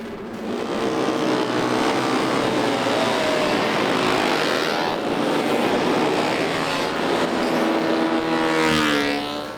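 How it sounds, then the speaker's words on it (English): Loud, continuous engine roar from vintage racing motorcycles lapping the Mosport circuit, rising and falling as they pass by, with no talk. "As the riders thunder around the circuit"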